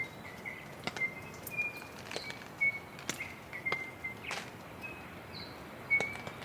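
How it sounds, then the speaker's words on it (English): Birds in the Australian bush give brief scattered chirps and short calls, fairly distant and faint, over a low windy hiss at a rainy campsite. "The birds are singing."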